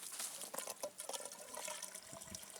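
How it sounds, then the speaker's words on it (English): A garden hose runs water into a wicking tub container used for growing zucchini, a soft, steady splashing and trickling, fairly faint and uninterrupted, with no voices. "leave this hose run in here until it fills the bottom of this container up, and it'll run out that hole"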